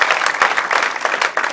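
A stand-up comedy crowd applauds, steady loud clapping from a full room that fills the short moment without pause.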